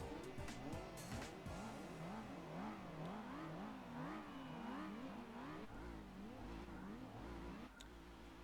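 A supercharged car on stock suspension and soft tyres launches off the line in Gran Turismo 4, its engine rising and falling in rapid wavering revs with tyre squeal, steady and close for the whole stretch.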